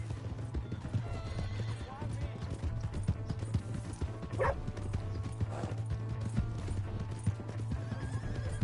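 Horse hooves clip-clop at a gallop with a sharp neigh partway through, in the video game Red Dead Redemption 2, under game music and character voices.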